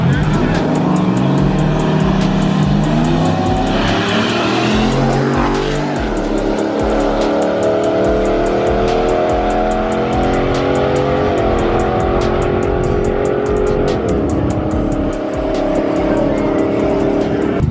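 A Dodge Ram truck with an FRP Tomahawk cam launches down a drag strip, its engine revving loudly and climbing through gears with rising whines and a brief tire squeal, close and dominant throughout.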